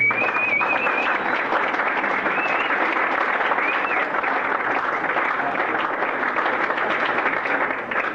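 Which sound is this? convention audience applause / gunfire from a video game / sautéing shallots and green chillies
convention audience applause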